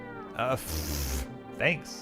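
A cat meows inside a video game, two short distinct meows separated by a longer hissing burst, with someone briefly speaking over the game audio.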